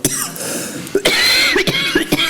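Repeated coughing from a speaker during a literary conversation on stage, a series of sharp, loud bursts in uneven rhythm, close to the microphone with brief gaps between fits.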